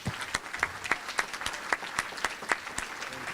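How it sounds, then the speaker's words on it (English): Steady applause from a crowd at an awards ceremony, with many hands clapping together in a dense, continuous patter and a few sharper claps standing out. "We applaud you."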